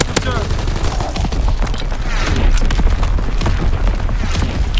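Gunfire in a first-person shooter video game: rapid bursts of automatic fire and sharp shots with booming impacts, continuous and loud, with players talking over it.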